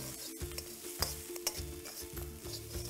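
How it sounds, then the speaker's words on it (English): Corn, capsicum and dry red chilies stir-fry over a high flame in a pan, with steady loud sizzling broken by repeated scraping stirs. "Now we will stir fry this together for about a minute in high flame."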